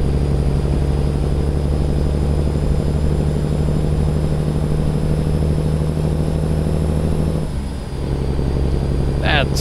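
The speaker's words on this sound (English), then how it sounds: "Sound of the Cummins is so awesome" A Cummins ISX truck engine in American Truck Simulator drones loud and steady with a deep harmonic hum, dipping briefly near the end.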